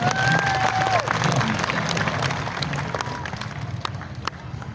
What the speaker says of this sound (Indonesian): Tepuk tangan sekali lagi untuk Pak Wali.